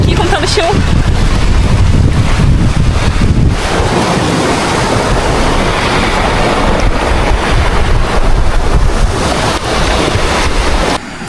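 Strong wind buffets the microphone at a jungle camp, a loud continuous roar with gusty surges filling the whole stretch, no clear talk over it.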